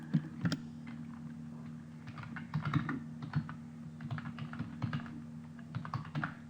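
Keyboard keys are typed in scattered bursts over a steady low electrical hum while notes are entered on a computer for project scheduling, moderately close and without talk.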